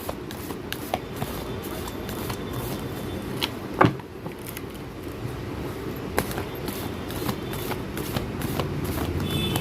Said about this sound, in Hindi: चलिए मैं कार्ड को मिक्स करती हूँ।